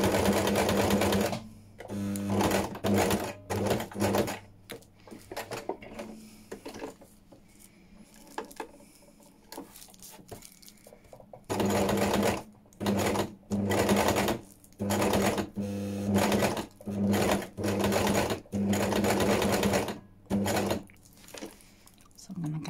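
Sewing machine stitching fabric embellishments onto a junk journal cover topper, running in repeated short bursts with brief pauses between, close and fairly loud, a quieter stretch in the middle, with occasional soft speech.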